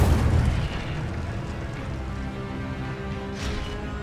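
The Incendio fire spell cast in the video game Hogwarts Legacy, a loud dense whooshing burst of flame with a heavy low rumble that swells at the start and roars on steadily.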